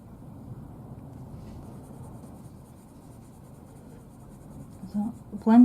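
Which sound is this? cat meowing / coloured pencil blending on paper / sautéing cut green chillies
coloured pencil blending on paper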